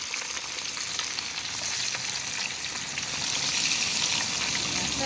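Fish frying in hot oil in a pot during home Sunday dinner cooking, a steady close hiss and crackle that swells slightly louder toward the end, with no talking.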